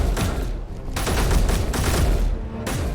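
Dense rapid gunfire in a video game, a continuous loud fusillade of shots and bursts with booming impacts throughout, with no talking.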